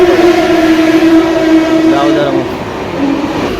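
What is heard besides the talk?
Mumbai local train at Diva station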